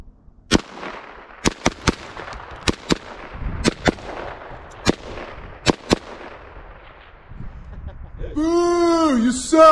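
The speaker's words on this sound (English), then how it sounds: "The SCAR 20, suppressed SCAR 20, shooting the 308." A suppressed SCAR 20 rifle firing .308 rounds at a Kevlar combat helmet, about ten sharp muffled cracks spaced unevenly, loud and close, followed at the end by a brief tonal whine or voice-like sound.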